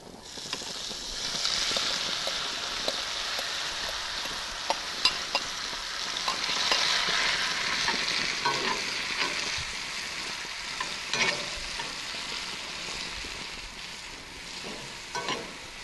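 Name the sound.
apple slices sizzling in butter on a grillstone skillet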